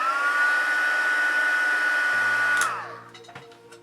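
A heat tool blows a steady, loud whirring hiss over creases in folded paper, then cuts off with a winding-down whine near the end, followed by a few faint clicks and knocks.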